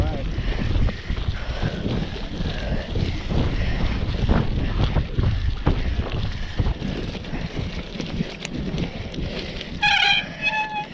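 Strong wind buffets the microphone in a constant roar during a cross-country mountain bike ride, with a brief higher-pitched voice breaking through near the end.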